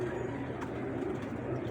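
Pigeon, an original female silk breed with onion-coloured eyes, cooing steadily at close range over a continuous low murmur with no pauses.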